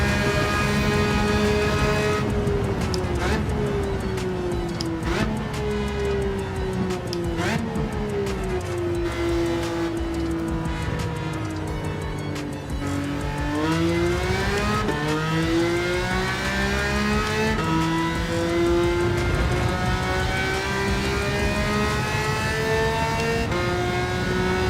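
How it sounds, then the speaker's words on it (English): A race car engine in the video game Gran Turismo 7 on PS5 drones loudly and steadily throughout, its exhaust note rising and falling in pitch as the car accelerates and shifts through gears. "Listening to the exhaust note."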